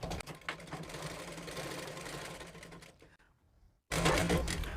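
A sewing machine runs steadily while stitching a plain blouse neckline, with a brief pause near the end before the whirring stitching resumes loudly.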